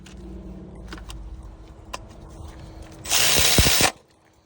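A power drill spins 10 mm bolts into the fuel rail of a 2010–2015 Mazda 3 during fuel injector replacement, giving one short, loud, close whir near the end after quieter handling noises.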